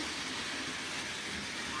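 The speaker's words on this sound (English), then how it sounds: "this is where I keep on my Lionel trains" A steady rumbling whir of a running Lionel model electric train with a continuous broadband hum, close and fairly loud, no voices.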